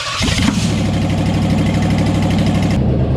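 A car engine, just reinstalled, cranks and catches, then settles into a loud, steady idle close by with no talk.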